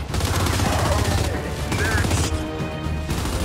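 Gears 5 gunfire, a dense fusillade of rapid shots in a combat scene, loud and continuous with layered game effects, voices faintly mixed in.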